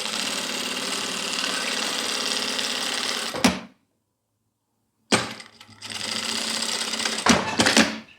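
A sewing machine stitches a zipper onto clear crystal plastic in fast, loud mechanical bursts, pausing for a silent break of about two seconds before running again in shorter spurts.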